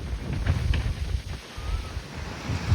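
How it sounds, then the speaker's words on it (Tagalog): Strong wind at Dolomite Beach in Manila roars and buffets the microphone continuously, with a low rumble like surf underneath and no talking. "ganyan kalakas yung hangin ngayon po dito"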